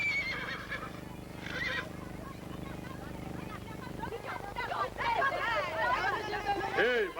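Horses neigh and whinny in a rural Khevsureti mountain setting, several loud whinnies rising over a steady clatter of hooves, with voices and crowd babble mixed underneath.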